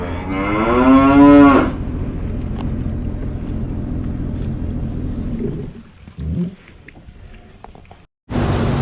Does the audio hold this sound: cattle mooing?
yes